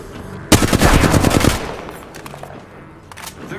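Rapid automatic gunfire bursts loudly in the video game Apex Legends, a dense rattling volley of about a second followed by fainter scattered shots and game ambience.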